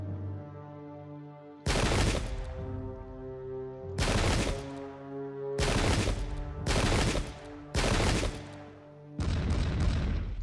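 Cannon volleys boom in the Pike and Shot wargame at the Battle of Rocroi, six loud blasts at irregular intervals over a low sustained musical drone.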